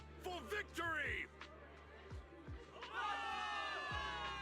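A cheering crowd in the Zenless Zone Zero video game rises in a burst of whoops and shouts after a short spoken line, swelling into sustained, layered cheering that carries to the end.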